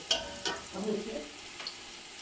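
Food browns in a pan with a close, steady sizzle, broken by a few sharp scrapes and clinks of stirring.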